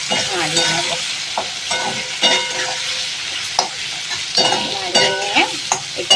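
Fish pieces coated with turmeric and salt are stirred in a hot pan, a loud close sizzle broken by repeated scraping and clinking strokes of the spatula, with no talking.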